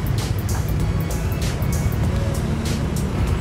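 A New Pelangi bus drives along a road at night, a steady low engine rumble with road noise and faint hiss from passing traffic.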